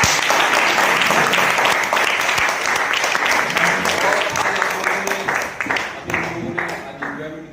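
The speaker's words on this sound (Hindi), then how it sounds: "एक जोरदार तालियां होनी चाहिए" Loud, dense applause from a large seminar crowd, sustained for several seconds before gradually thinning and tapering off.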